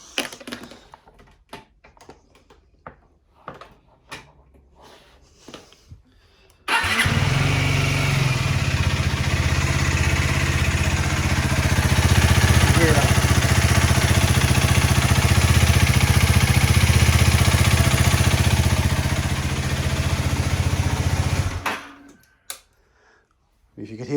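An Aprilia RS4 125 motorcycle starts and idles in neutral for about fifteen seconds, a loud, steady engine drone with a persistent knocking rattle, framed by quieter handling clicks before and after.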